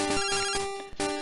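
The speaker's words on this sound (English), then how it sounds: "this is when you get your very first phone call in the Pokegear from Professor Elm" Pokegear phone ringing in the Pokemon Silver video game as the first call from Professor Elm arrives: a steady chiptune ring with repeating pulses over about a second, loud and clear with no voices.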